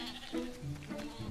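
Grazing sheep let out a couple of wavering bleats, close by and clear, in quick succession.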